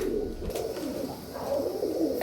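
Pigeons coo steadily and close by in a continuous low, throaty murmur, with birds kept for sale to be handed out as a clutch of young from the same loft.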